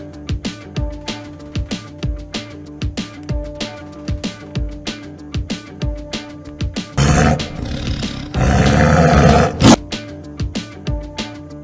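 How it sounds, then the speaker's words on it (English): A tiger roars among zoo animal sounds, with repeated short grunting roars early on and a louder, sustained roaring burst near the end, fairly close and prominent. "Tiger, this is tiger."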